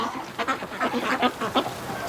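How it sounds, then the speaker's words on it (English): Ducks let out of their pen for the morning quack in a quick, busy series of bursts, fairly close and without any talk. "I just let the ducks outside there for the morning rush, and Mrs. Gimp is hearing them quacking"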